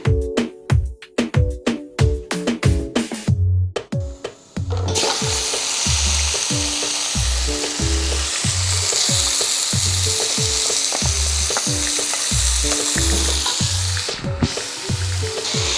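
Bay leaf and spices frying in oil for a chicken karahi, with rhythmic metallic spoon strikes and clatter over the sizzle at first, then a loud, steady frying hiss as stirring continues.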